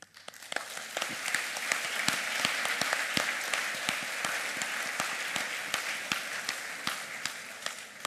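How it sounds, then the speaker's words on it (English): A crowd applauds steadily, dense clapping from many hands, sustained and fairly loud throughout with no voices. "Please get an applause for them."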